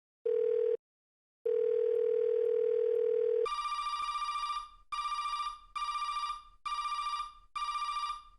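A telephone in an animated show sounds an incoming call: two short steady tones, then a series of five repeated bright electronic ring bursts with brief gaps, loud and alone.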